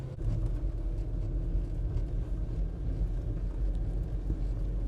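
A 1998 Suzuki Carry 4x4 kei truck driving, its engine a steady low droning rumble with road and wind noise, continuous and close from inside the cab, with no talking.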